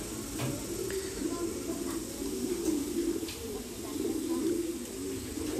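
Pigeons cooing in a farm coop where the birds are raised, a steady low murmuring chorus of coos running throughout with faint scattered rustles, moderately close and continuous.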